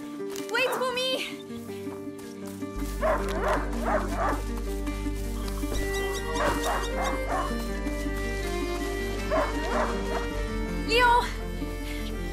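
A hunting dog barks and yips in A Plague Tale: Innocence, set against a steady low music bed and in-game ambience. The bursts come in short clusters across the scene, fairly prominent, with brief whimpery notes.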